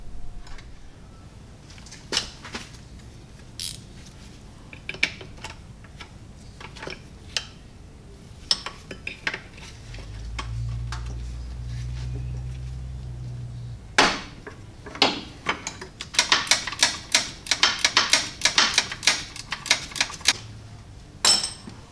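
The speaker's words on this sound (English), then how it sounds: "So I'm gonna go ahead and take that nut off to remove this bracket" A 9/16 nut is worked off a transfer case shift linkage bracket with scattered metallic clicks, taps and ratcheting clatter, sparse at first and then a dense flurry of quick tool clicks, with a low hum partway through.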